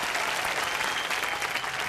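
Brief burst of enthusiastic applause from a studio audience at a Hindi television game show, dense clapping at full volume throughout.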